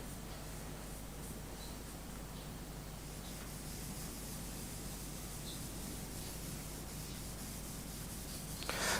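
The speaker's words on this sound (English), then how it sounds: "quick and easy to get lots of graphite off of it to rub on" Graphite is rubbed onto drawing paper, a soft, continuous scratchy hiss that stays faint and even from start to finish, with no voices.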